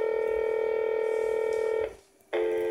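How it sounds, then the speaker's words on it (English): Touch-tone DTMF dialing through a phone network switcher: a long steady tone, a brief silent gap, then another tone starting, clean and clear with no talking. "I'm going to dial the station that's connected to FXO on my network."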